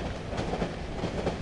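A train riding along rails inside the horror video game Cry of Fear, a loud continuous rumble with rattling, rhythmic wheel clatter heard from inside the carriage, no talking.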